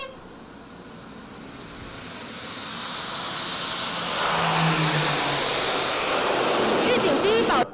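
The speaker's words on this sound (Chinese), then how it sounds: "飞机持续减低空速，" A military jet on landing approach roars louder and closer, its engine noise swelling to a steady peak before cutting off abruptly, with a voice audible at points.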